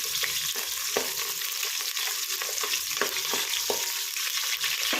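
Chopped onions fry in hot oil for hotel-style sambar, giving a loud, dense, close sizzle that runs without a break, broken by regular scraping stirs of a spatula in the pan, with no voices.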